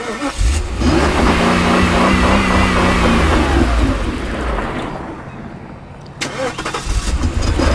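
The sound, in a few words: 1992 Mercedes 500SL 5.0L V8 engine starting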